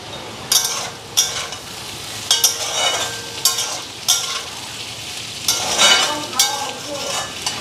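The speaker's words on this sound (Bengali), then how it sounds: "এখন রুটিগুলি ভাজি" Rotis fry in a pan at home, giving a steady background sizzle broken by repeated sharp scraping and clattering strokes as they are turned and pressed, close and fairly loud.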